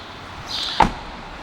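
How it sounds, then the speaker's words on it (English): Door unlatching on a 2011 Nissan Maxima SV, a brief mechanical whir followed by one sharp clunk of the latch releasing, close and isolated. "And now all 4 doors are open."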